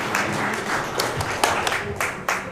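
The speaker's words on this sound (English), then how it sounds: "Feel free to clap anybody" Seminar audience clapping in a room, a steady dense patter of many hands with a few sharper individual claps standing out, fairly close and sustained throughout.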